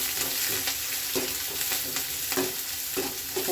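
Tomato and onion fry in a pan for a country chicken pepper dish, a steady hiss of sizzling oil broken by scraping stirs at intervals, close and fairly quiet, with no talk.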